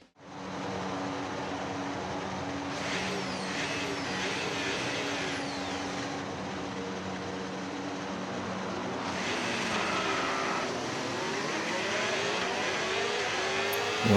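Formula 1 cars in a racing video game roll through the formation lap, engines droning and rising in pitch as they accelerate and pass, with layered whining revs that swell and fade over a continuous engine bed.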